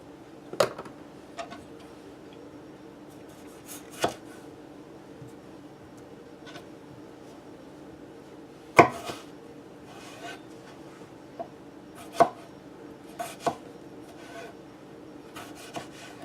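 A knife cuts a bad spot away from food, a few sparse, sharp scraping and tapping strokes spaced several seconds apart over quiet kitchen background.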